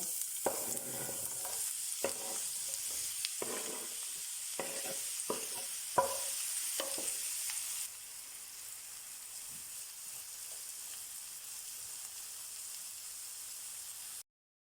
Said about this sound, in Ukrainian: Вкидаємо порізану цибулю.